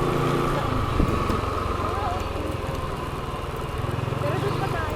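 Several motorcycles pass close by on a road lined with old trees, their engines making a steady, droning rumble with slight swells as they go by, while a voice speaks over the noise.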